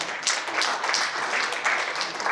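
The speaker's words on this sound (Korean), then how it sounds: "박수로 많이 해주시죠" Guests applaud at a Korean commemoration ceremony for the anniversary of the Battle of Cheongsanri; a smaller group's fairly close, uneven clapping with individual claps standing out, steady throughout.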